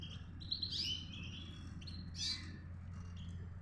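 A female canary chirps and trills in a couple of brief, high bursts over a low steady hum, fairly close but soft.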